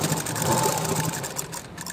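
A sewing machine runs steadily while stitching a blouse, giving a continuous close whirring hum with a fast, even mechanical rhythm and no pauses.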